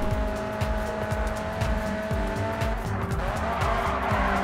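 A Nissan Silvia drifts in the GRID 2 racing game, its tires squealing steadily beneath a loud, continuous engine roar for the whole stretch, with no one talking.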